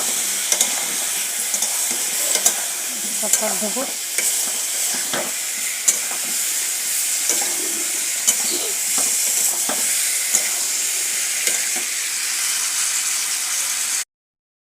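Ground spices, chili, cumin and turmeric, fry hard in a pan with a steady, loud sizzle broken by sharp stirring scrapes, and a voice speaks briefly near the start.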